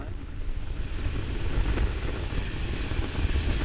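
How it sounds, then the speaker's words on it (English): An Atlas V rocket lifts off carrying the Curiosity Mars rover, a deep, continuous broadband roar that rumbles steadily throughout. "liftoff of the Atlas V with Curiosity"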